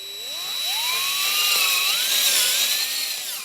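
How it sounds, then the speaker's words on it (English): A power drill bores a hole with a 1/2-inch bit while building a wooden butterfly house. It gives a close, steady high whine whose pitch climbs and wavers as the bit cuts, with no talking. "at the bottom we're just going to drill a hole using a 1/2-inch drill bit"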